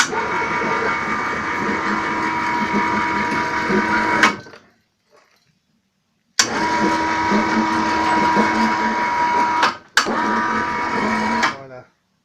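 Electric motor hoisting a suspended HO model railway board toward the ceiling until it hits its end stop, a steady mechanical whirring hum that runs, cuts off, then restarts twice in close, loud bursts.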